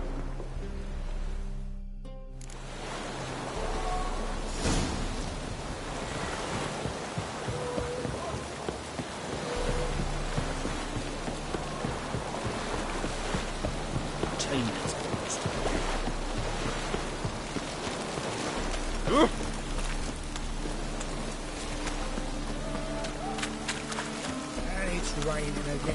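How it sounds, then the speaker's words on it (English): Steady rain pours in The Witcher 3, a continuous close hiss of falling water with low rumbling beneath and scattered game sounds throughout. "Raining again."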